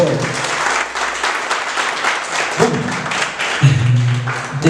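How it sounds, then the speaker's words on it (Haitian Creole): A conference audience claps enthusiastically, a dense continuous patter of many hands, fairly loud and close, with some thumps mixed in. "On applaudit très très fort."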